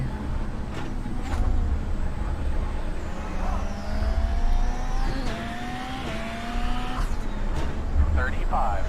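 A race car engine on a rallycross joker lap at Daytona Rallycross Short in a racing video game drones loudly and steadily, its pitch climbing and dropping through several quick gear shifts, with a voice faintly present.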